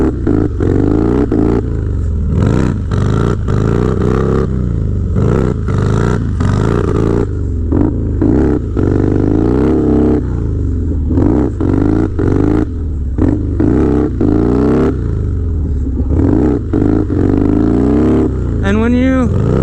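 A Harley-Davidson Dyna motorcycle revs hard and repeatedly while drifting in circles, its engine note surging and dropping in choppy bursts, loud and close, with someone talking over it.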